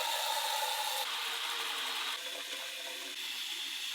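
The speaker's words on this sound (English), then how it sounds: "all I need is a regular cooler, and I'll fill it with some warm tap water." Warm tap water running into a plastic cooler, a steady splashing hiss that drops in level partway through and continues more softly, with faint rubbing and knocking of the container.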